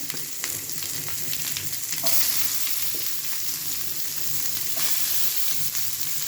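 Onion frying with garlic in a pan, a loud, steady sizzle with occasional scrapes and taps of stirring, and no talking.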